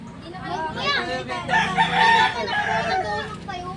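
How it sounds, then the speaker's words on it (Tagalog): A rooster crows loudly and close by, a rising, drawn-out call with some clucking mixed in. "Ayun yung manok mo."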